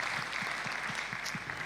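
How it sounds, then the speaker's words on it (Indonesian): Applause for the Pentecostal Church at a national church assembly opening service in Jakarta: a soft, fairly distant patter of clapping from a crowd, steady and even throughout. "Tepuk tangan untuk Gereja Pantekosta."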